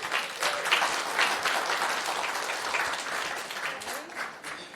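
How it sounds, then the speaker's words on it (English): Moderately distant applause from a council meeting audience, a patter of many hands clapping steadily for a few seconds in a room, fairly soft overall. "You can give them a round of applause."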